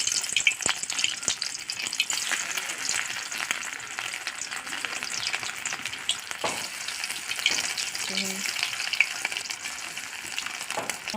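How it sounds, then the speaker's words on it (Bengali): Small fish pakoras deep frying in hot oil, a steady close crackle and sizzle running without a break, with faint stirring and the odd bubbling pop over it. "এবার আমি পাকোড়াটা একটা একটা করে ভেজে নেব।"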